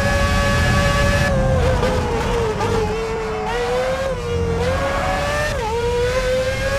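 The Ferrari 248 race car from the 2006 season screams through a time-trial lap at Monza in the PS2 game F1 2006, a loud continuous high-pitched engine note rising and dipping with gear changes, alone throughout.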